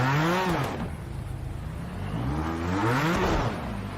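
A race car launching on a wet track, its engine revving up and dropping twice in quick succession, loud and close with a steady hiss underneath.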